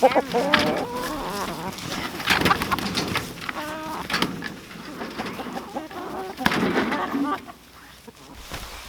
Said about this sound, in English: But chickens are hungry little monsters, so they will eat it.